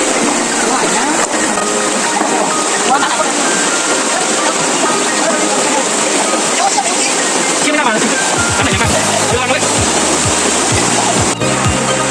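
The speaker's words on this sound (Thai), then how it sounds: "น้ำไหลแรงมาก ดูครับ น้ำไหลแรงมาก" Loud, steady rushing floodwater roars throughout, a powerful torrent close by with a voice calling out over it, during flooding in Khok Samrong, Lopburi, Thailand.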